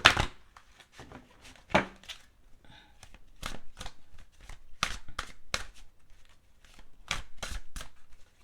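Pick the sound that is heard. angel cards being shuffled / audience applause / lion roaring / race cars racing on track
angel cards being shuffled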